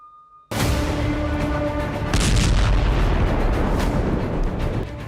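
Loud, sustained rumbling blasts and crackling roar from a drone attack on the Kremlin, starting abruptly after a brief tone and swelling into dense, continuous booming noise as heard in news footage.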